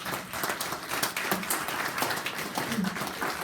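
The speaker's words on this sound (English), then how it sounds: "So let's have a round of applause," Club members at a general meeting clap for the volunteers, a moderately loud, scattered round of applause with distinct individual claps and some faint voices in the room.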